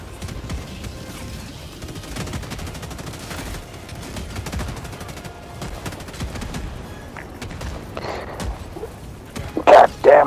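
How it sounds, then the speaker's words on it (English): Mortar fire and explosions in the video game Helldivers 2, a dense continuous barrage of rapid booms and crackling blasts, loud and sustained, with sharper bursts near the end and some faint background voices. "Goddamn mortars!"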